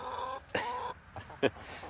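Hens in a Texas flock, no rooster among them, give a few short clucks and one sharper squawk, close by over a quiet background.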